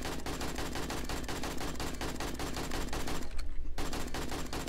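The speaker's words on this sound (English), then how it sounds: "Where are you shooting?" Gunfire in the video game 7 Days to Die comes as a rapid, evenly spaced automatic burst of loud shots that runs almost continuously, with only a brief pause near the end.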